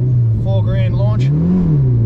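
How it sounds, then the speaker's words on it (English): Mitsubishi Lancer Evolution IV with a new clutch doing an all-wheel drive launch, a loud engine revving hard and surging in pitch under a short spoken remark. "the first thing that we need to test is an all-wheel drive launch"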